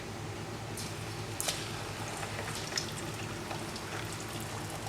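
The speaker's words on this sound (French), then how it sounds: "Vous allez plonger cette cuisse dans l'huile" Chicken thigh frying in hot oil, a steady dense sizzle and crackle with occasional louder pops, constant and close throughout.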